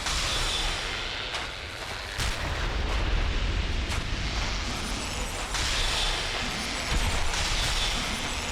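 A sustained roaring blast from an object lit in Dark Souls II, dense and loud throughout with several heavier thuds breaking through the rumble.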